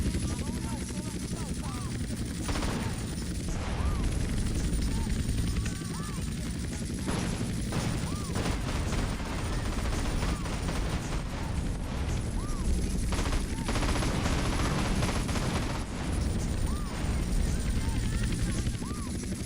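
Rocket fire and heavy gunfire in GTA San Andreas, a continuous dense barrage of shots and booms with a helicopter-like drone underneath, loud and close throughout, with a person talking over it.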